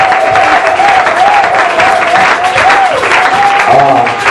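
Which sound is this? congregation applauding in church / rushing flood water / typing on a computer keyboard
congregation applauding in church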